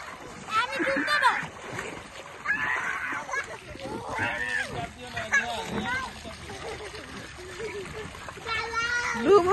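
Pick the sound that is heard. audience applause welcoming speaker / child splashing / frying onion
child splashing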